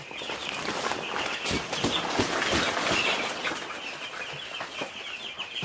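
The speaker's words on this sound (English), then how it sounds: "So here are the birds. Let me turn the camera. Here are the broilers." Young broiler chickens, eight days old, clucking and peeping together in a poultry house, a steady dense chorus of overlapping calls with scattered sharper chirps throughout.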